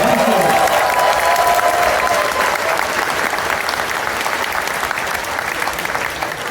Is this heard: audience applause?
yes